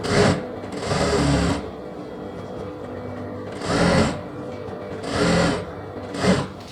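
An electric sewing machine stitches a semi patiala pant in four bursts of rapid, even whirring, two longer and two shorter, with quiet pauses between and a brief final run, close up.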